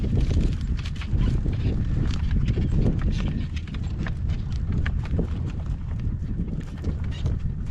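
Horse hooves clip-clop steadily on a road in a gale-force wind storm, close and continuous, with heavy wind buffeting the microphone throughout.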